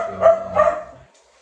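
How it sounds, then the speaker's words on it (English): A dog barks twice in quick succession, close and loud, then falls quiet. "Sorry about the dog"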